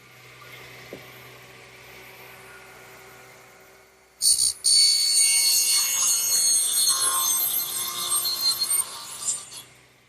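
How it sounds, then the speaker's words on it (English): Sawing wooden bookcase shelves: after a quiet start with low hum, a loud saw cut bursts in and runs steadily for several seconds before tapering and stopping near the end. "I might as well cut my shelves, which will be 34 3/8 inches."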